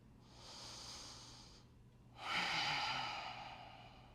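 Slow yoga breathing during a twisting pose: a soft drawn-in breath, a pause, then a fuller, louder breath out, close and quiet, with no talking.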